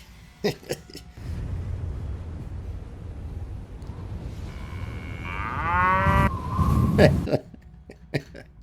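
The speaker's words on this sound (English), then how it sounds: "I have to add a cow to this scene." A cow in a homemade wrestling video game scene lets out a single long, deep moo that rises and wavers, loud and near, over a low rumbling background with a few sharp clicks.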